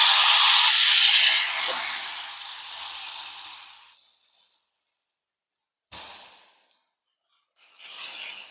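Spice paste hits a hot pan with a loud, close hiss that fades over several seconds into silence, then two short hissing bursts return.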